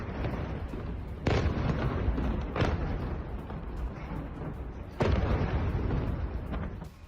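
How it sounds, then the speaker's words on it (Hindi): Explosions in Markaba, southern Lebanon, land as several sharp booming blasts, distant and muffled, spaced a few seconds apart over a low continuous rumble. "दक्षिणी लेबनान के मरकाबा में जबरदस्त धमाका हुआ है"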